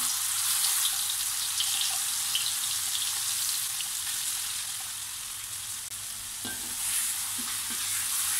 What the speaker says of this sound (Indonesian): Ini minyak sudah saya panaskan ya. Lalu saya masukkan bumbu yang sudah di blender tadi.